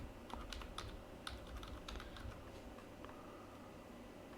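Quiet computer keyboard typing while a value is entered into a running C program, a run of light clicky keystrokes in the first half that thins to near silence.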